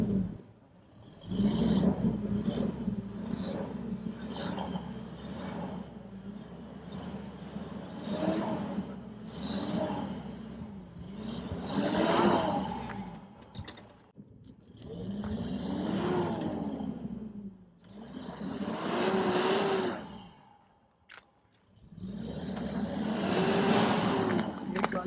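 A Mitsubishi Pajero stuck in snow in winter Himachal, its engine revving repeatedly in long surging bursts with short quiet gaps between them, the rumble rising and falling close by.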